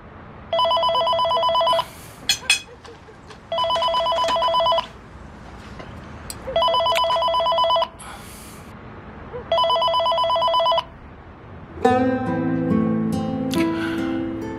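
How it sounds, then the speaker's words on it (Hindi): A telephone bell rings in four loud, evenly spaced bursts of about a second and a half each, with short gaps between them, before a different sound takes over near the end. "फोन मत उठाओ। हो सकता है कुछ जरूरी हो।"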